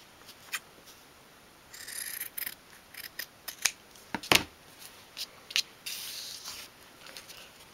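Scissors snip triangles out of material for a 1/12 scale dolls house sofa, with a series of short, crisp, irregular cuts close up and quiet pauses between them.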